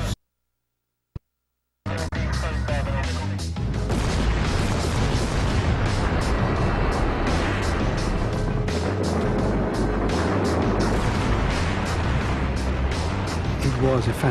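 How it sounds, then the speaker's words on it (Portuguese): After a brief quiet, a huge dynamite blast at both ends of a canal during construction of the Itaipu hydroelectric dam erupts into a long, loud, rumbling roar that continues without pause. "Cargas de dinamite são colocadas nas 2 extremidades do canal."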